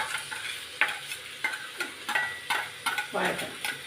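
Crushed ginger, garlic and green chilli sautéing in a pan for egg biryani, with a steady sizzle and repeated scraping stirs of a spoon at a fairly regular rhythm, close and moderately loud, no talking.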